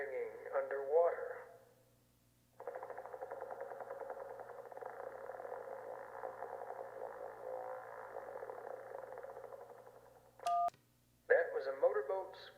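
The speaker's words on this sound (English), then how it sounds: "That was a motorboat's propeller failing." A motorboat's failing propeller churns as a long, sputtering, wobbling drone for about eight seconds, heard through a narrow radio filter in a video game. A voice precedes it, and a keypad beep and more speech follow.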